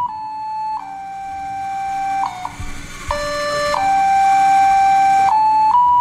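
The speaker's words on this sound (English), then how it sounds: "This is the Dutch national anthem." LEGO Mindstorms robot reading color-coded cards with two color sensors plays the Dutch national anthem as loud, pure electronic tones, one held pitch after another in a slow melody, with no voices.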